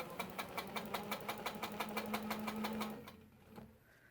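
A sewing machine with a ruler foot stitches in a fast, regular run of close mechanical taps with a motor hum beneath, then slows and stops near the end, leaving a few faint clicks.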